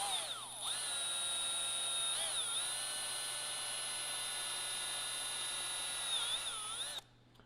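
A power drill bores a mirror-mount hole on a 2021 KTM 890 Adventure R motorcycle, whining loudly and steadily for about seven seconds, its pitch sagging briefly under load twice before the motor cuts off.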